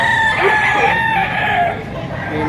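Chickens and a rooster at a poultry market in Batangas, with a loud, close rooster crow sounding over busy clucking from the surrounding birds.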